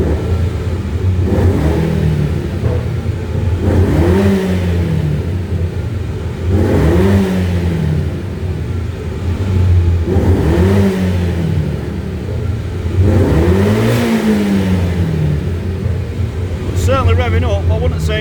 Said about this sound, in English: Let's give it a few blips, see if it revs up.